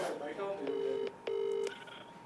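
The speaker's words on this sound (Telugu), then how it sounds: "రింగ్ అవుతుంది" A live phone call connecting, with tonal ringback pulses: two steady beeps, each about half a second long, separated by a short gap over faint background murmur.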